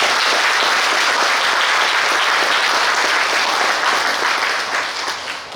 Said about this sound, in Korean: 여기 오신 경찰청장님과 여러분께 박수를 한번 보내주세요.